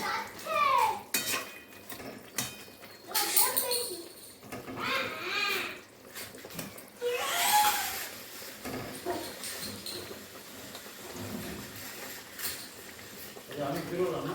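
Fried chital fish slides into a pot of boiling water, with clattering pots and utensils and stirring scrapes close by while voices talk over much of it.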